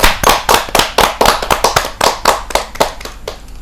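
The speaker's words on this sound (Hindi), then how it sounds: "जोरदार ताली के साथ हम उनका स्वागत" A live audience at a Hindi kavi sammelan poetry gathering bursts into loud, rhythmic clapping to welcome a poet, the claps close and sharp, falling into a steady unified beat before tapering off.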